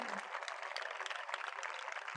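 An audience at a church revival meeting claps for the children, a short burst of steady, fairly faint applause from many hands.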